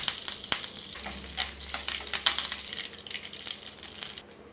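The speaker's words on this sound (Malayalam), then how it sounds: "അതിലേക്ക് കുറച്ച് വെളിച്ചെണ്ണ ഒഴിച്ചു കൊടുക്കാം കടുക് ഇട്ട് കൊടുക്കാം കറിവേപ്പില വറ്റൽമുളക്" Mustard seeds, curry leaves and dried red chillies tempering in hot coconut oil for a chicken curry, a crackling sizzle with spattering pops and a sharp tap near the start, fading toward the end.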